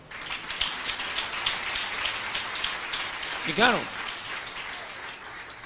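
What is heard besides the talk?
congregation applause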